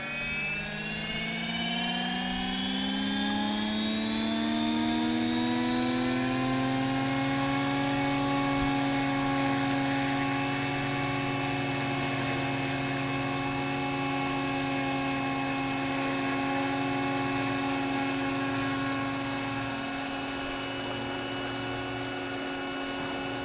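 Scale RC helicopter spooling up and then holding steady at flight RPM in a hover, a loud continuous turbine-like whine with a rising pitch over the first seconds before it levels off, close and alone.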